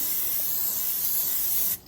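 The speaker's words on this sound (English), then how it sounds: "This is gonna be the pan. Spray some Pam" A steady burst of Pam cooking spray hisses continuously into a pan for nearly two seconds, close and fairly loud, then cuts off abruptly.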